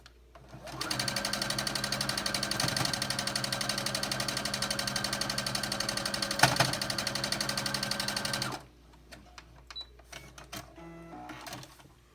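A sewing machine runs a straight seam joining quilt block pieces, a rapid, steady close-up whir for about eight seconds that stops abruptly, followed by quiet handling clicks.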